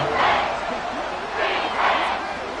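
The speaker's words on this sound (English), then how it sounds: "this crowd is making an impact right now" Simulated stadium crowd in a football video game roars steadily throughout, swelling in two louder waves of cheering, with no clear speech on top.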